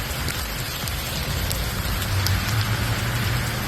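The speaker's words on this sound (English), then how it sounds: "It's like hail, yeah. It's a little harder." Hard hail pattering on surfaces outdoors during a snowstorm, a dense, continuous crackling rattle of many small impacts, steady and fairly loud, with a low rumble underneath.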